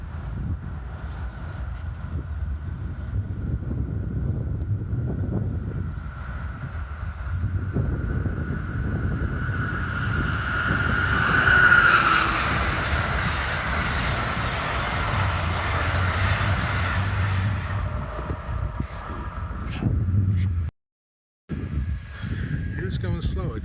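An Amtrak train draws near on the Northeast Corridor, a steady low rumble and rising broadband roar building toward the middle, with wind buffeting the microphone and a short dropout near the end.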